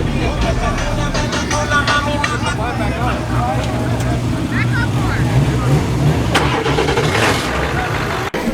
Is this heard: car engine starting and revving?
yes